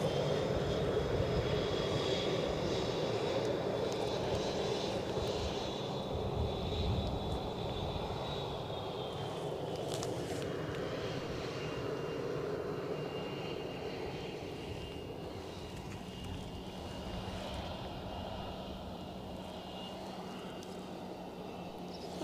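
An airliner powers along the runway on takeoff at Edinburgh Airport, a sustained engine roar with a high whine that slowly fades and settles into a lower, more distant rumble.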